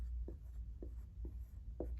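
A pen or marker writes during a multiplication lesson, making four short, evenly spaced scratching strokes, faint and close, over a low steady hum with no talking.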